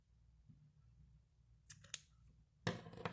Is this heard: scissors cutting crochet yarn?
yes